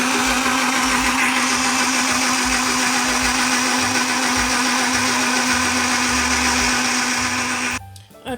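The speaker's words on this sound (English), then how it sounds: "to clean our blender, we add water and a drop of dishwashing liquid and turn it on." Portable to-go blender running with water and a drop of dishwashing liquid, a steady close whirring motor drone that holds for several seconds and then cuts off abruptly near the end.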